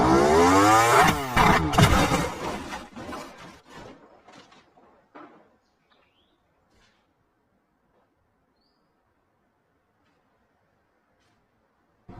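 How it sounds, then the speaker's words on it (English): Motorcycle accelerating in a speed test, a loud high-pitched revving whine that sweeps upward, then drops off into sputters and fades to near silence. "Motorcycle."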